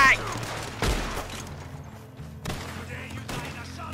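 Gunfire from the Red Dead Redemption 2 video game: a sharp loud shot burst followed by scattered further shots and thuds, with players' voices partly mixed in.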